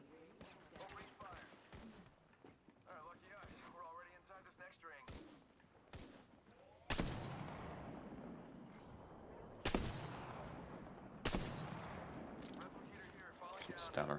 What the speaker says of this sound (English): Oh, we're getting shot from the other side now as well.